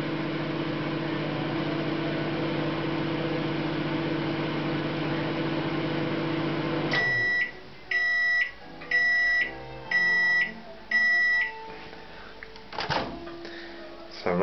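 A microwave heating porridge hums steadily, then stops and beeps five times in a regular pattern, followed by a door clicking open nearby.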